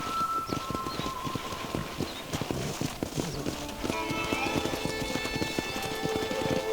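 Horse hooves clip-clop in quick, uneven beats in the Red Dead Redemption video game, with a whinny and background music layered in at moderate volume.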